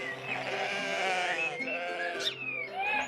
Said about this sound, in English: At the petting zoo there were sheep and lambs,